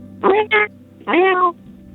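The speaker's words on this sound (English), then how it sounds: "then unexpectedly there sounded like a legit meow sound" A cat meows over the phone: two short calls, one quick pair then a longer drawn-out one, with a thin, band-limited telephone quality over a faint steady hum.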